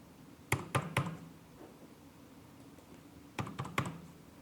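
A password is typed on a computer keyboard in two quick bursts of three sharp key taps each, close and quiet against a faint room hum.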